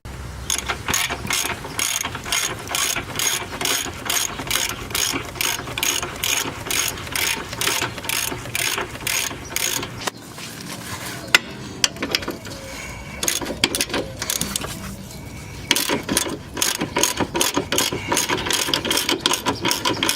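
A ratchet wrench loosening a bolt on the subframe of a Chevrolet Cobalt SS, rapid rhythmic clicking in bursts close to the mic, pausing briefly in the middle before resuming.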